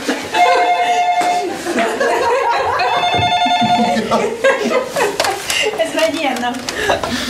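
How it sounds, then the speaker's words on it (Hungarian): A telephone rings in repeated electronic bursts during a Hungarian prank call, mixed with lively talking, chuckles and a few claps. "Nem tudtam elképzelni, hogy hol csörög a telefon."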